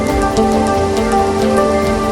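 Heavy monsoon rain pours steadily during severe flooding in Vadodara, a dense, continuous hiss and patter close by, with no voices.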